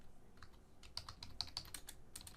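Quick keystrokes sound on a computer keyboard as a prompt is typed, a faint and close run of light, irregular clicks.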